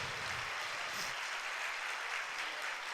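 A church congregation applauds during a Sunday worship service, a steady, dense wash of many hands clapping together that fills the whole stretch without pause.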